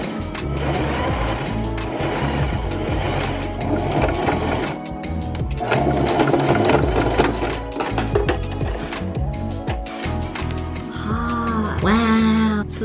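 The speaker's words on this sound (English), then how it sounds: "we're gonna serge her and she's gonna look great" A serger stitching IKEA fabric into a fall garment, its rapid mechanical whirring running steadily and loud throughout, with harmonic tones and a rising whine near the end, no talking.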